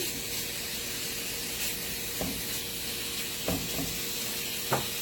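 Onions and jalapenos sizzling in olive oil in a hot cast iron skillet, a steady loud hiss with a few faint clinks of stirring.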